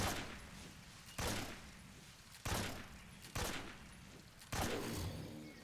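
AK rifle fire in Metal Gear Solid 3, heard as five loud, evenly spaced shots or short bursts, each with a sharp attack that trails off before the next.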